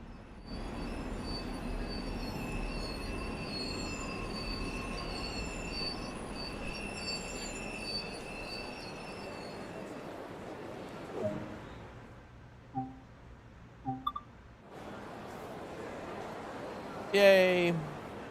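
A Harlem Line commuter train in Train Sim World 2 brakes to a stop at a platform, with a steady rolling rumble and hiss that fade, then a few brief clunks and a short high squeal near the end.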